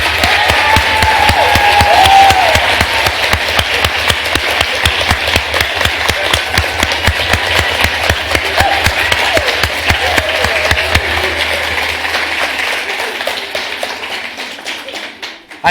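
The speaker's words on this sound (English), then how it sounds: "So, big round of applause." Sustained applause from an audience at a spring capstone symposium, dense and fairly close, with cheers early on, thinning into scattered claps and fading near the end.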